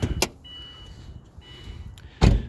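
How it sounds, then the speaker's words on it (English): A sharp mechanical clunk as the hood latch of a 2007 Subaru Impreza WRX is popped near the start, then a low idle hum, and a second louder thump close by at the end. "Let me pop the hood here."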